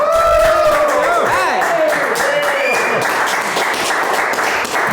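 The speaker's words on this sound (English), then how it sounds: "You guys can applaud." Audience applause fills the room at a live Waterways For All fundraiser program, a steady dense wash of clapping with a voice and sustained tones sounding over it throughout.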